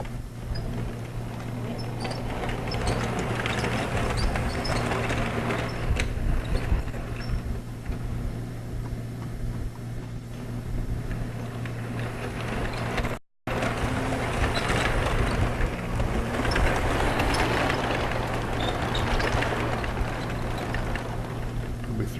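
A Weaver model freight train set runs steadily with a continuous whirring motor and rolling rumble, picking up four more cars; a brief dropout interrupts midway before the running noise resumes.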